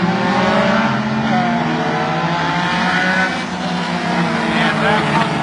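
Several race cars roar together at a dirt track feature race, a loud continuous engine drone of accelerating cars near the start, with an announcer talking over it.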